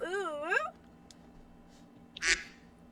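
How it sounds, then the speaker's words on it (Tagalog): A short, loud nasal quack-like call with wavering pitch from a duck in the video game Honor of Kings, followed by a second brief burst a couple of seconds later over quiet background noise. "Bakit may bibe?"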